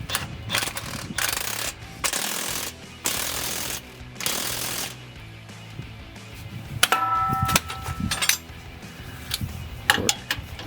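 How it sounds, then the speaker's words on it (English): A ratchet wrench snugging rear shock bolts on a 2007-2018 Silverado or Sierra 1500, loud close bursts of rapid clicking separated by short pauses, with metallic clanks and tool handling near the end. "Just gonna snug these down and then torque them up."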